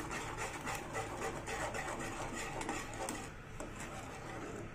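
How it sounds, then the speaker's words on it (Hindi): A spoon scraping and stirring China grass (agar agar) halwa with pistachio flavour in a pan, steady rubbing and clinking strokes at low volume, with no talking. "अब हम इसे कंटिन्यू चलाते रहेंगे।"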